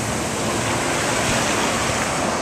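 Ocean waves wash against the shore in a steady, loud broadband roar of surf, close and continuous with no voices over it.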